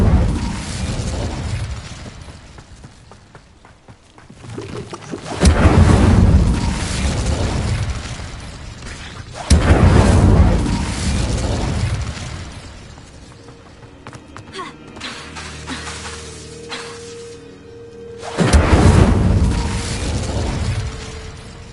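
Incendio fire spell cast in Hogwarts Legacy: several loud whooshing bursts with deep booms, separated by quieter stretches of game ambience.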